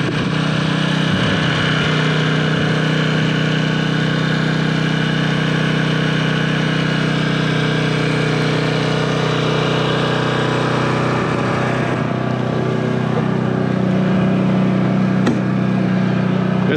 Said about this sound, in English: Let's go ahead and take this thing down the street right quick